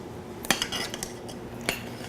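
A spoon clinks against a bowl while stirring a cheese mixture, producing a few sharp metallic taps over soft scraping, close and moderately loud.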